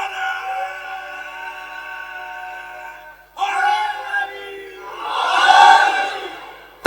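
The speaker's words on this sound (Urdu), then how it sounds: "ان کے نعرے کا جوش بھی دیکھیے اور اپنا ٹھنڈا جواب بھی دیکھیے" Crowd at a Shia Muharram majlis gathering raising loud chanted slogans in bursts, swelling to a roaring collective shout near the end, with voices overlapping and no single speaker.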